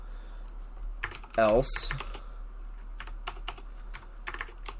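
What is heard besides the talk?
typing shader code on a computer keyboard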